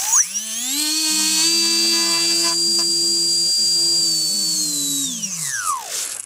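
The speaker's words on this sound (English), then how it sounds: "Now let me run the motor again." A small electric RC motor spins up, holds a steady high-pitched whine for about five seconds, then winds down, run through a WM150 150A watt meter. It is loud and close, with no talk over it.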